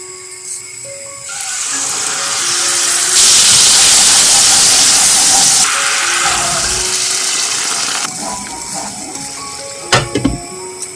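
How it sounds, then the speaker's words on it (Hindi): Hot spices sizzle in oil as a tempering for chickpeas, a hiss that swells loudly and holds for a few seconds, then settles to a softer crackle, with a few clinks at the end. "चने में तो तड़का लगा दिया है मैंने"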